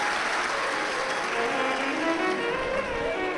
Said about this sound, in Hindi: एक बार जोरदार ताली बजाकर इनके लिए साधु का।